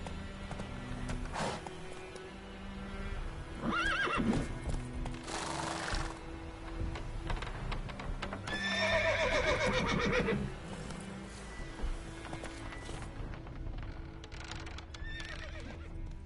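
Roach, a horse in a video game, whinnies loudly several times over a rhythmic clip-clop of hooves, the neighs rising and falling while the hoofbeats continue steadily underneath.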